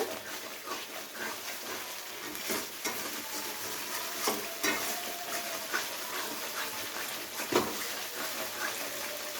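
Spiced katla fish gravy is stir-fried in a pan, giving a steady sizzle with repeated scraping strokes of a spoon against the pan.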